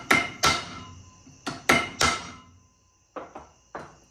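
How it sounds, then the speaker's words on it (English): Sharp metallic hammer taps land on a clip being seated onto a custom Skyline driveshaft, about eight close, loud strikes in uneven pairs and singles with short ringing decays and quiet gaps between. "Little taps right on top of the clip to try to get it to seat."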